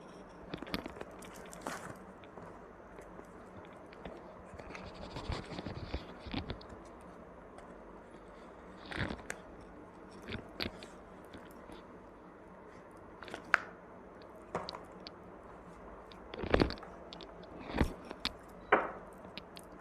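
Cards from a unicorn oracle deck are handled in a quiet room, with soft, scattered taps, flicks and shuffling clicks at irregular intervals.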